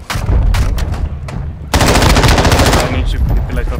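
Automatic gunfire in the zombies mode of the video game Call of Duty Warzone: loud, close bursts of rapid shots, a short burst, a brief pause, then a longer sustained stream that tapers off.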